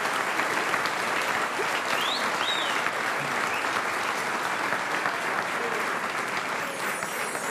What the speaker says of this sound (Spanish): un aplauso también para él.